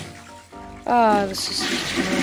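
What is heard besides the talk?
toilet flushing in a Minecraft mod, video game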